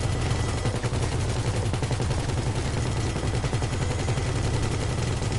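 Rapid automatic gunfire in GTA 5, a dense, continuous burst of loud close shots rattling without pause.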